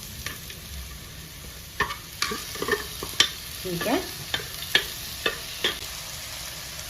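Sprouted horse gram is stirred into a sizzling tempering for palya, a soft steady sizzle punctuated by repeated sharp ladle scrapes and clinks against the pan at an uneven pace.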